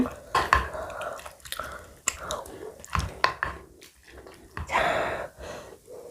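A Korean home-cooked meal with cheonggukjang soup and rice eaten close up, with soft chewing, slurps and breaths, and light clinks of dishes.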